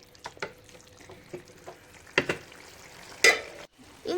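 Kerala colocasia leaf curry is stirred in a pan, giving a faint sizzle and a few soft scrapes and clinks.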